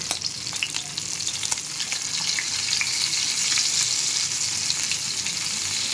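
Kavala fish (mackerel) frying in oil in a pan, a continuous dense sizzle with crackling pops, steady and close, with no one speaking.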